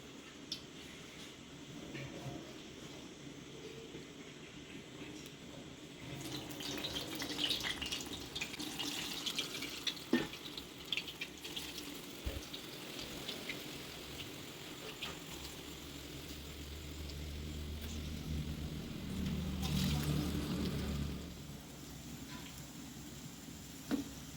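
Vada frying in hot oil for a Jaffna-style snack, a steady soft sizzle and bubbling that swells in the middle and later stretches, with occasional small pops and no talk.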